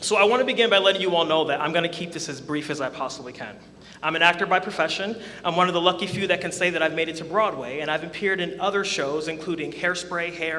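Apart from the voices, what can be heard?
None of the usual background noises is heard.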